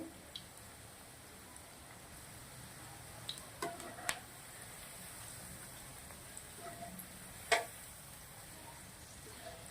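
A chickpea, puffed rice and potato snack frying in hot oil gives a soft, steady sizzle with scattered small pops and crackles, quiet and continuous throughout.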